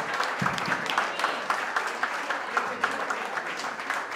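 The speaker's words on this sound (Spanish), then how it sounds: "Un fuerte aplauso para María, por favor." Party guests at a fiftieth birthday celebration break into steady applause, a close, continuous spread of clapping hands with a few faint voices mixed in.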